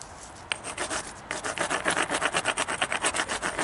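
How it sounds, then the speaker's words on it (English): Flint platform edge ground against an abrading pad during knapping: a steady rhythmic rasping scrape, close and fairly loud, with quick repeated strokes picking up after a brief pause. "I'm going to grind it. Give it a nice good grind."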